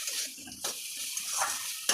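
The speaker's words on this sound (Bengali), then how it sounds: "আলু ভেজে নিয়েছি, এখন মশলা কষছি।" Spices fry and get stirred in a pan with already-fried potatoes for a vegetarian chhana dalna, a soft steady sizzle with a few scraping stirs, fairly quiet and close.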